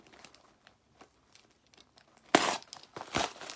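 Plastic blister packaging on a vintage 1970s Mattel Big Jim action figure is ripped open in two loud crinkling, tearing bursts, preceded by quiet handling and faint rustles.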